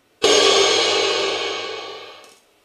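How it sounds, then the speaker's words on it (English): An unprocessed cymbal sample plays in a granular synthesis module: one sharp, bright, noisy crash that rings on and slowly fades over about two seconds, heard alone. "a cymbal also."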